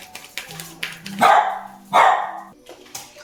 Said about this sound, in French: j'ai dû couper parce que le chien avait décidé de verbaliser son mécontentement